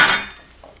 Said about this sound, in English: Now, add ice.